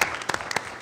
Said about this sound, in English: Thank you for that kind applause